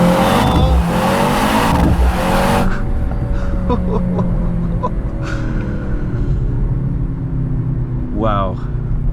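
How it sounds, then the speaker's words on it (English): Mercedes C63 AMG with a 670 bhp engine doing a launch-control race start: hard, loud acceleration with rising engine and road roar that holds steady for several seconds, and a brief tire chirp near the end. "Alright, left on the brake, slam the throttle, race start,"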